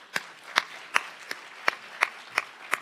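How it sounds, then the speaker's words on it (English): Audience clapping at a prisoner reentry conference: sparse, evenly spaced claps, about two or three per second, fairly soft and slightly distant, with no talk over them. "Can we have a round of applause?"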